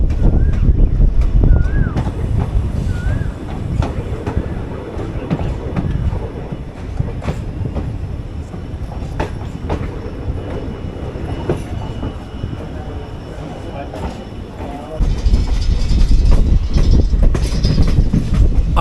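Train no. 14736 on the Ambala to Shri Ganganagar route pulls into Giddarbaha station, with a continuous loud rumble of wheels and carriages, rhythmic clatter, brief squeals, and a louder surge of noise near the end.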